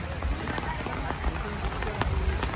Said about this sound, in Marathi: फुल पाऊस खूप आहे